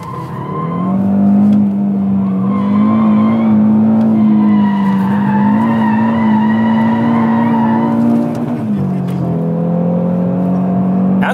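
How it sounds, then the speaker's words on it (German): A 2017 Audi RS3 Limousine slides sideways with its tires squealing, a loud sustained howl that holds for several seconds, dips, then rises again. "dann kannst du den halt auch querfahren, den RS3"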